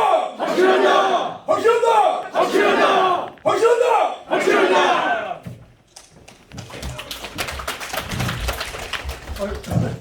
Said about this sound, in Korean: 뜨거운 박수로 감사드립니다.